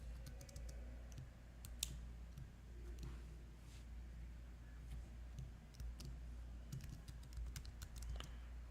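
Computer keyboard typing a command into a text editor, a quiet close run of light key clicks with small gaps over a low background hum.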